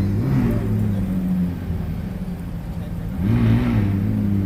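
A McLaren 675LT supercar's engine rumbles low and close while the car reverses, two short throttle blips rising in pitch over a steady idle, one near the start and one near the end.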